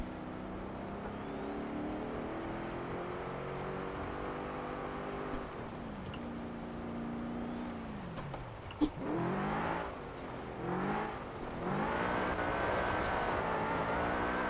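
BMW M5 engine in Forza Horizon 4, driven with a steering wheel during drifting, revving up and down with shifting pitch, loud and continuous throughout.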